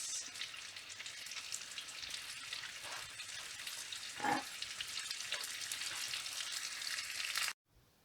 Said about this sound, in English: Just going to deep fry two